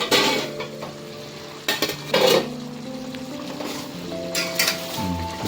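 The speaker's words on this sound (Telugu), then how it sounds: "టమాటా ఉడికిందో లేదో మూత వేసుకొని చూద్దాం." Pot lid set down on a cooking pot of mutton curry with tomatoes, a few sharp metallic clanks and clinks over steady sizzling in a village kitchen.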